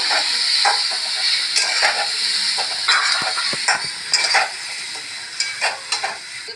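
Potato pieces frying in oil in a pan for a dried-fish and potato curry, a steady bright sizzle and hiss with occasional stirring scrapes, close and continuous.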